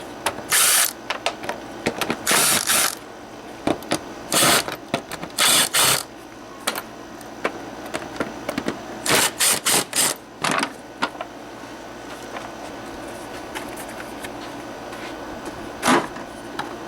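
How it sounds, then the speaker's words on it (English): Phillips screwdriver backing out the screws on the air filter housing top of a 2003 Dodge Neon with automatic transmission, heard as bursts of close metallic ratcheting clicks and rattles separated by short pauses. "I'm going to use a Phillips to remove the top of the air filter."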